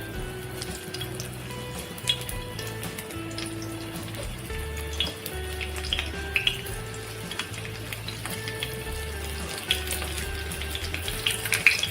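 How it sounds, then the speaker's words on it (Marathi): Stuffed okra frying in a pan for a Maharashtrian bharli bhendi, giving a soft continuous sizzle with scattered small pops and clinks, fairly quiet and close, with no talk. "आता आपण ही फ्राय करणार आहोत।"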